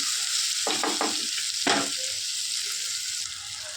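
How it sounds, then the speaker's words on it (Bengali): Onions frying with salt and turmeric in a Bengali home kitchen for a prawn and taro-stolon dish, steady close sizzle with a few scraping stirs of the spatula, no talk. "পেঁয়াজটা এখন ভাজবো এর মধ্যে নুন আর হলুদ দেব"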